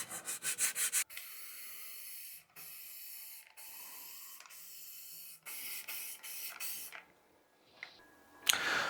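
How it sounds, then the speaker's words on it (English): Random orbital sander smoothing the edges of a CNC-cut wooden address sign: rough, hissing bursts of sanding that start and stop several times, with short quiet gaps between passes. "We're gonna take a random orbital sander and smooth out these edges"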